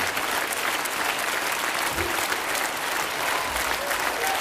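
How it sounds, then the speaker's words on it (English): Concert audience applause for a rock show with a Danish radio choir and orchestra at Ledreborg in 2006, a dense, even roar of clapping that sustains throughout. "One more round of applause, please."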